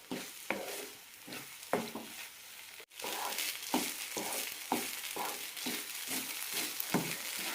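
Kozhukatta dough made from puttu flour thickening in a pan over a high flame, with a steady bubbling sizzle and regular scraping stirs of a spoon, close and moderately loud, with no talking.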